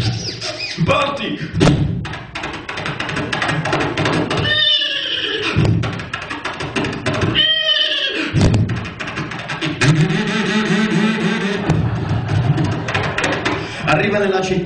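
A voice imitates a horse whinnying and setting off in an Italian movie-spoof sketch. Two rising-and-falling neighs come through over busy vocal noise and dull thumps that suggest hooves.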